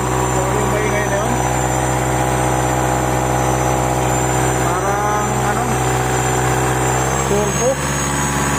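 A Mitsubishi Montero engine idles steadily with a thin, high turbo whine and hiss running over the low rumble, while someone talks nearby.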